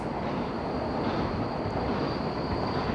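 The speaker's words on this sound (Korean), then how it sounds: "KTX 지나간다" A KTX high-speed train rushes past in Noryangjin, Seoul, with a loud, steady, close rumble and rushing roar that lasts the whole stretch and carries a faint high whine above it, with no talking.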